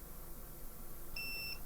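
A continuity tester on a McCormack DNA 1 Deluxe amplifier board gives a short, faint electronic beep while checking a signal path, over a low background hum.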